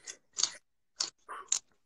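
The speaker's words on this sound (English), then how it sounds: "The way you're chewing your salad is so funny." Someone chewing salad up close, with five crisp, crunchy bites in an uneven rhythm separated by brief silences, and no talking.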